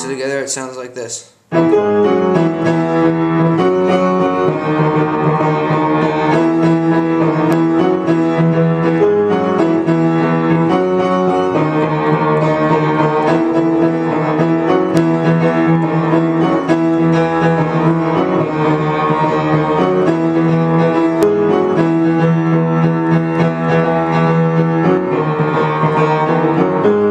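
Piano plays a passage from a song, steady and close with sustained chords and a flowing melodic line, heard alone without voices after a brief opening cut.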